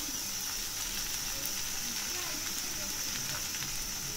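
Thalipeeth fries in a pan as oil is added around the sides, giving a steady close sizzle and crackle with soft faint voice sounds beneath.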